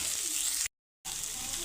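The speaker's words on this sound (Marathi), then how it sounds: "त्याच्यामध्येच आपल्याला कांदा आणि शिमला मिरची घालून द्यायच्या" Chopped ginger, garlic, onion and capsicum fry in hot oil in a wok with a loud, steady sizzle, broken once by a brief moment of silence.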